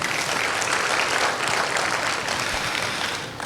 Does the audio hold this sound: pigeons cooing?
no